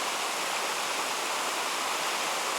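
Holly Creek, a North Georgia mountain stream, rushes with a steady broadband hiss of flowing water, constant and close, with no voices over it.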